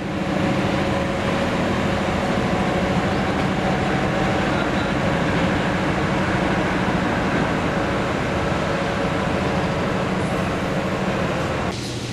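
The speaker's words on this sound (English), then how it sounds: "the train is now being switched to a different track" A train rumbles and rattles steadily close by for a long stretch while being switched to a different track at a locomotive depot in Kraków, its wheels droning with metallic hums and clanks along the rails.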